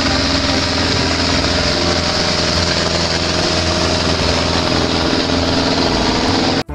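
A toy tractor's engine runs continuously, a loud, steady, buzzing motor drone that cuts off abruptly at the very end, with no voices.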